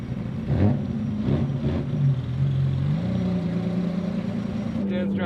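A car driven by Dad on a winding route at an event with many Ferraris, its engine a steady mid-pitched drone with slight revving, overlaid with loud road and wind rumble throughout.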